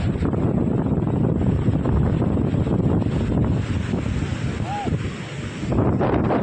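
Strong wind buffets the microphone on a seashore while waves surge and wash steadily beneath, a loud continuous roar that eases slightly near the end.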